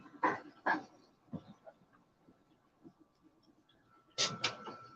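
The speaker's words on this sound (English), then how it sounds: "That was the dog." A dog gives a few short, sharp barks indoors: two quick woofs, a softer one, a quiet pause with faint room sounds, then a louder double bark at the end.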